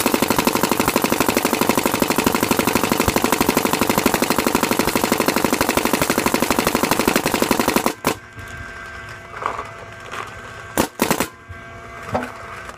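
Planet Eclipse GSL paintball marker firing on ramp mode, a loud, dense, rapid stream of shots for about eight seconds, then stopping abruptly, followed by a few scattered clicks and knocks.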